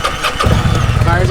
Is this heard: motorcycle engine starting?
yes